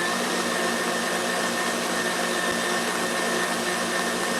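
A stand mixer turned up to speed 8 whips egg whites for macarons, a steady, dense whirring drone that holds constant and fairly loud throughout without pauses.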